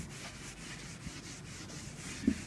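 Close, steady rubbing strokes of a cloth wiping across an old, sanded wooden jewelry box, repeated in an even rhythm.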